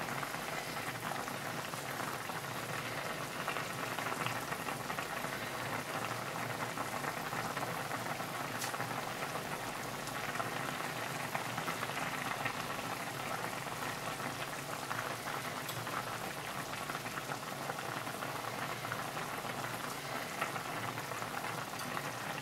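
Noodles for a Chinese soup cook in a pot of water at a vigorous boil over high heat, a constant close bubbling and hissing roar that holds steady throughout. No one speaks.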